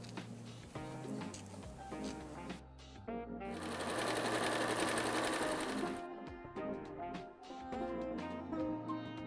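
A sewing machine stitches quilt pinwheel blocks in close bursts of rapid whirring chatter, with one longer continuous run in the middle, while someone talks throughout.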